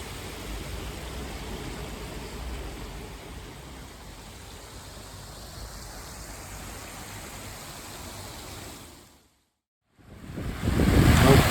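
Water rushes steadily through a culvert feeding a canal from a river, a soft, even hiss, cutting out briefly near the end before returning louder.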